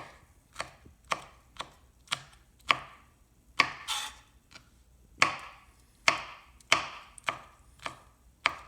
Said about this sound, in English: I'll cut them up a little bit only because I want them to blend easily.